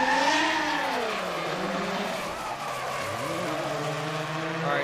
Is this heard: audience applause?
no